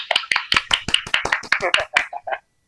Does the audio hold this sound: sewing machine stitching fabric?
no